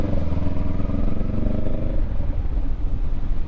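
A motorcycle rides in second gear, its engine close and loud with a steady pulsing drone and a slight change in pitch partway through.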